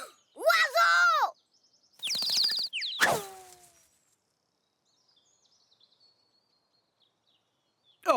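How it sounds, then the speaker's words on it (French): Cartoon birds chirp in a few short bursts of high, warbling tweets, close and clear, with long quiet gaps between them and a voice-like call among the sounds. "Est-ce que tu vas nous emmener observer les oiseaux, Wawa?"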